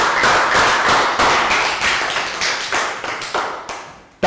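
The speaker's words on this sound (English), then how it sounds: "Round of applause." Pupils in a Year 3 maths class clap together, loud and close, with distinct sharp claps in a rough rhythm that gradually thins and fades toward the end.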